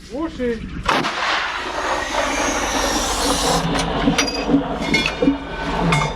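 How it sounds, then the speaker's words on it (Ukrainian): A British L119 105 mm howitzer fires a high-explosive fragmentation shell once with a deep, loud blast, followed by a long rumbling echo and clanking metallic sounds nearby. "Постріл!"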